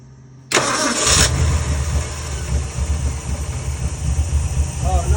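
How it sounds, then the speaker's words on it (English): A 1965 Ford F100 with a Holley 650 carburetor cranks briefly and fires up, settling into a loud, steady, rumbling idle close by. "it's time to test fire."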